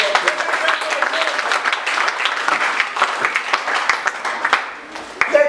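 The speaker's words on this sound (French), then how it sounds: "Applaudissons d'abord très fort." Loud, sustained applause from a church congregation, dense and continuous, with voices mixed in, dipping briefly near the end before a voice returns.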